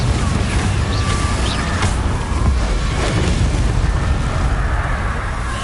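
Confringo spell blasts in Hogwarts Legacy, a dense, continuous rumble of booming explosions and crackling bursts that stays loud throughout the clip.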